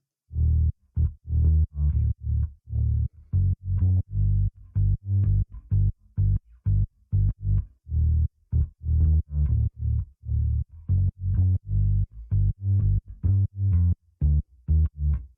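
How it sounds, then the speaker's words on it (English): A distorted synth bass line pulses in steady, punchy low notes, looping a repeating pattern alone with no voices. "the main bass line sounds like this."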